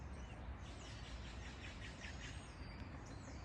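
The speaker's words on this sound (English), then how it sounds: "Birds." Birds call and chirp outdoors in short, faint bursts over a steady, loud background hiss of wind or running water.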